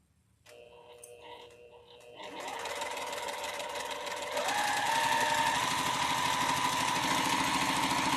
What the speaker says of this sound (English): I'm going to sew the width of my foot distance away.